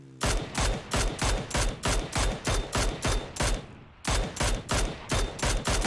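Rapid bursts of video game gunfire during a squad firefight, loud and close, with about a dozen sharp automatic volleys in quick rhythm, a brief lull near the end, then more bursts.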